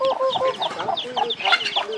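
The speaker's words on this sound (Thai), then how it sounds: "แม่ให้ข้าวไก่นะคะแม่ให้ข้าวไก" Chickens cluck repeatedly and close by while being fed rice on a Thai farm, a busy overlapping run of short calls with no talk.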